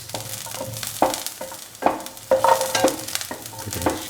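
Garlic pieces fry in a pan under a gentle sizzle while a spoon scrapes and stirs in repeated, irregular strokes, each stroke sharp and close.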